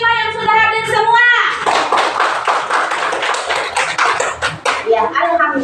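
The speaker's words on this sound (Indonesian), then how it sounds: "Tepuk tangan untuk kelas 5 yang sudah hadir semua." A class of fifth-grade schoolchildren clapping together in a classroom, a loud burst of many overlapping claps lasting several seconds after a short stretch of sung or chanted voices, tapering into scattered claps.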